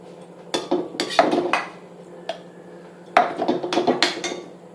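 Mango-ginger thokku is spooned into a container in sharp clusters of metal scraping and clinking. Two bursts of knocks and scrapes are separated by a short pause and a single tap, close by and with no talking.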